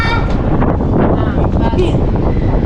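Loud wind buffeting the microphone on a building balcony or rooftop, a constant close rumbling roar, with people talking under it.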